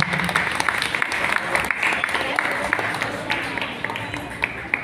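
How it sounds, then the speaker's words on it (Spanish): An audience at a Christmas community event with gifts claps loudly and continuously after a call for a strong round of applause, dense steady applause throughout. "Un fuerte aplauso, por favor."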